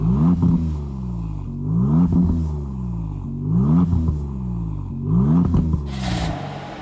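Exhaust of a 2024 Maserati MC20 Cielo supercar revving in repeated blips, about five rising and falling surges in steady rhythm, loud and close, then a short hiss as it settles.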